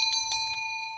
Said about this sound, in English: I got a copper bell that I wear on me.